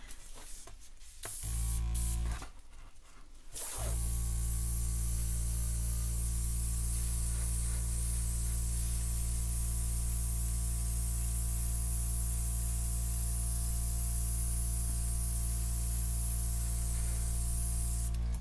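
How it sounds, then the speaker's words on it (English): Master airbrush spraying acrylic paint gives a steady, close hiss that runs almost unbroken over a constant low compressor hum, after a few brief handling noises at the start. "This is a master airbrush that I purchased on Amazon."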